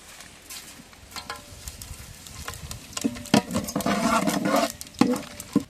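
Cinnamon and whole spices drop into hot ghee and oil in an outdoor village cooking pot, a rising sizzle and spatter with sharp crackles and clattering stirs that grow louder and busier.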